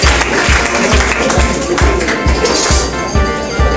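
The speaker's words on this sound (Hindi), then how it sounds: "एक बार जोरदार तालियों से स्वागत बताइए" An audience at a ceremony honouring matric and intermediate topper students in Saran, Chhapra, applauds loudly and continuously, a dense wash of clapping with regular low thumps running through it.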